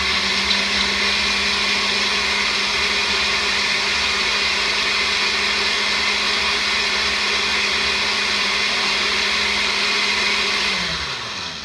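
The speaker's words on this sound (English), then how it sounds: "and now we're going to blend." A kitchen blender runs continuously on truffle mousse mixture, a loud steady whirring motor drone lasting about eleven seconds before winding down at the end.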